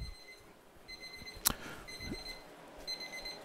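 An appliance beeping while food warms up, a series of faint, evenly spaced electronic tones in a quiet room, with a sharp click partway through.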